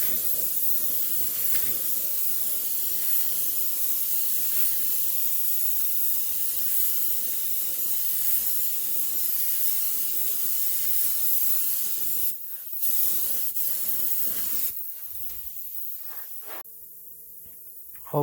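An aerosol spray can lays a final color-matched paint coat on a car panel during a rust repair, giving a long, steady, close hiss with brief pauses near the end.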